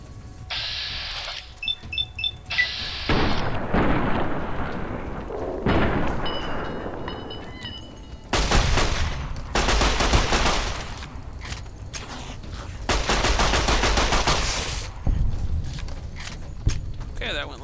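Video game gunfire in Fallout: New Vegas comes as dense bursts of rapid shots and blasts with pauses between them, and a player's voice is faintly present.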